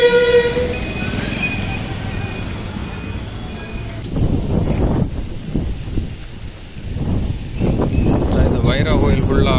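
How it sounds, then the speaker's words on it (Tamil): Vehicles passing on a road during cyclone flooding in Achchuveli, engines rising and fading one after another with rushing wind noise; a horn-like tone sounds early on. "பாருங்க வாகனங்கள் எல்லாம் வருது"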